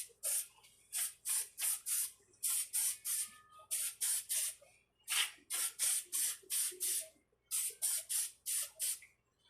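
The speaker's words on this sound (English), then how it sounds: "I'm just gonna spray one side of my paper." Short repeated bursts of a spray bottle misting one side of a sheet of paper, about a dozen hissing pumps in quick clusters with brief pauses between, close and clear with no talking.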